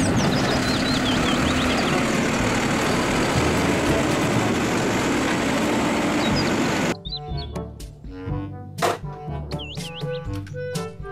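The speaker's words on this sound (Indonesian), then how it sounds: "Mobil truk sampah." A garbage truck engine runs with a steady, dense rumble for about seven seconds while birds chirp faintly. Then it cuts abruptly to light music with scattered chirps.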